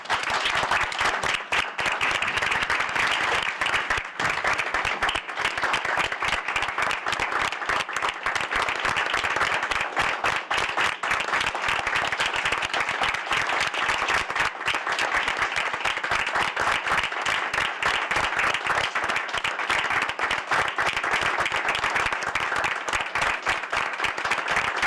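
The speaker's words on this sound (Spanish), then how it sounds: "quisiéramos pedir a todas y todos los presentes un minuto de aplausos en su memoria." Sustained applause from an audience at an Inter-American Commission on Human Rights hearing on Honduras, a minute of clapping in memory of fallen defenders; dense, steady, continuous clapping fills the whole stretch without pause.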